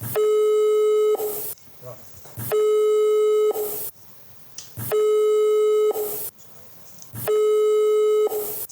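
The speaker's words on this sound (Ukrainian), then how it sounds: "не дочекалися відповіді і на телефонний дзвінок" Telephone busy signal from an unanswered call: four evenly spaced loud tone bursts, each about a second long, separated by short gaps of faint background sound.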